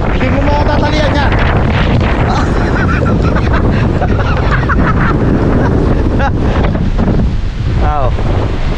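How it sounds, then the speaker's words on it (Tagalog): Strong typhoon winds batter a hillside hut in Batangas, roaring continuously as loud gusts buffet the microphone, with people talking over the din. "kita nyo yung lakas ng hangin"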